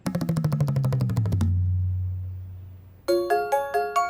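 A phone ringtone plays a rapid descending melody, pauses with a low hum, then starts ringing again in bright repeated tones.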